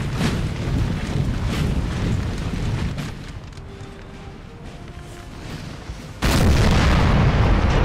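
Napoleonic line infantry in Napoleon: Total War fire a volley of muskets as distant battlefield rumble, rising to a sudden, loud, sustained roar of massed gunfire near the end.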